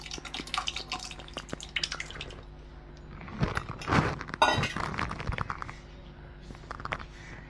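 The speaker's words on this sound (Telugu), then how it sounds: "ఇప్పుడు పాలు మరిగిన తర్వాతలా మనం ఉడకబెట్టుకున్న పెసరపప్పు ఈ మిశ్రమంలో పోసుకోవాలి." Boiled moong dal poured into a boiling milk mixture for payasam, wet splashing, sloshing and clinking in bursts, close and moderately loud, with no speech.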